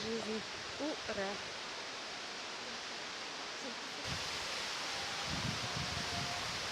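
Hotnitsa waterfall in Bulgaria in September, a steady, fairly quiet wash of falling water heard from a distance, with a few brief voice sounds near the start.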